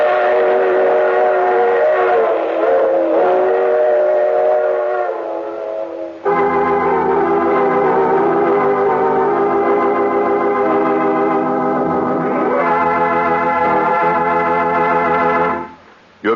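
A train sound effect in a vintage radio drama: loud chugging rumble with a long, wailing steam whistle in several tones, cutting off abruptly at the end.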